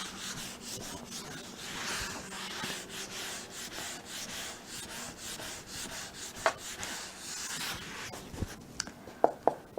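Pen or chalk writing out a physics equation, a continuous scratchy rubbing with quick strokes and a few sharp taps near the end, close and moderately quiet.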